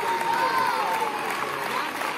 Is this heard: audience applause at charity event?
yes